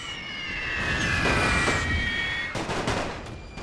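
Sustained infantry rifle and machine-gun fire in The Great War 6.0, a WWI strategy game, crackling densely along a battle line with layered shots and a brief dip before resuming, loud and continuous with no talking.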